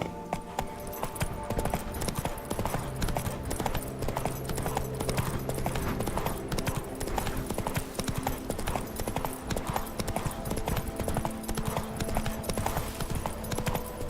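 Roach, a horse in the video game The Witcher 3, gallops with a fast, steady clip-clop of hooves, loud and continuous under game music, with brief speech.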